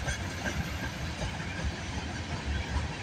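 A CN freight train rumbles past at Tansley, Mile Post 44, early on a Thursday morning, a steady low rolling drone of railcars with faint rhythmic clatter, moderately distant.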